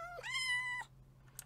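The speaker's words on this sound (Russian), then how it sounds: "мяукают" A single clear cat meow rises and then holds, close and fairly loud, before it stops abruptly and leaves faint room noise with a tiny click afterward.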